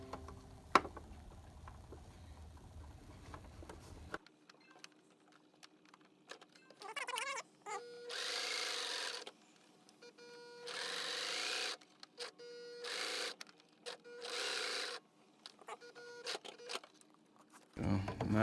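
A sewing machine runs in several short bursts of fast, even whirring as it stitches the edges of a fabric face mask, quiet and close, with pauses between runs.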